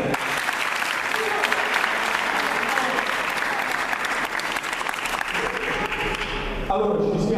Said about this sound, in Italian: è il caso di fare un applauso anche al dirigente accompagnatore Giuseppe Carnevale